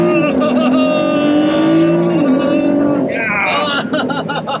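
Supercharged 2021 Ford F150 truck accelerating hard through downshifted gears, its engine note climbing in pitch then shifting, loud and close from inside the cab, with a voice speaking over it.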